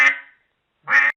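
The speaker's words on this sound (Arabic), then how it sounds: "بطة" A duck gives two distinct nasal quacks, close and clear, separated by a short pause.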